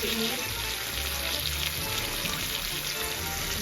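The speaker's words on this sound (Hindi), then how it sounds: "अब इसमें थोड़ी सी मसालों का जो भुनाई करेंगे" Spices and chili garlic sauce fry in a pan for chicken spaghetti, a dense, steady hissing sizzle close to the microphone, fairly even throughout with faint low rumbling beneath and no speech.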